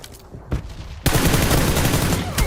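Gunfire in PUBG Lite: a few scattered shots ring out, then a sudden loud, sustained burst of rapid automatic fire erupts and continues close up.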